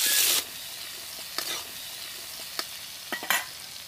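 Potatoes frying in oil left from frying fish, a steady loud sizzle with a brief intense burst at the start, then quieter crackling broken by a few spatula scrapes and pops.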